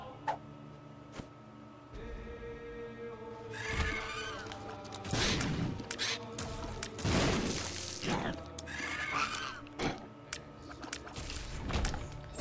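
Headless horseman boss in The Binding of Isaac neighing, several loud whinnies over game music with sharp ticking and shattering effects between them.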